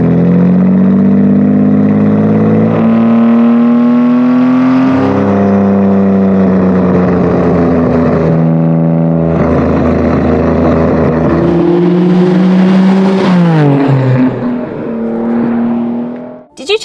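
Nissan Skyline R33 GTR engine on a canyon road drive, a loud, close inline-six drone rising through the revs with gear changes and sustained acceleration, then easing off near the end.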